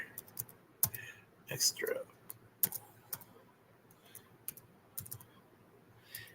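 Keys clatter on a computer keyboard, some with an E key that needs a harder punch, in bursts of sharp clicks and taps at close range, with a voice speaking briefly in between.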